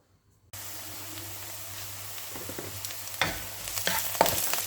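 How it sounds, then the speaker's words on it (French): Parsley frying in olive oil in a pan for oven-baked stuffed peppers sets off a steady, close sizzle that starts abruptly after a moment of silence. Scraping stirs and spatters grow louder toward the end, with no talking. "Et je mets à frire. Il faut remuer régulièrement."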